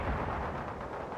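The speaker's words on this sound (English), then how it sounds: "Lock that enemy and give him a rocket." Rocket fire and explosions from the real-time strategy game World in Conflict, a short, loud, low booming burst that rumbles and fades.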